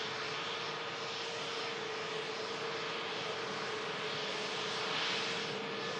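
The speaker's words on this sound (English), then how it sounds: "another EasyJet following it in from Paris" An EasyJet airliner arriving from Paris produces a faint, steady engine roar with a sustained tonal hum, rising slightly toward the end, with no voices.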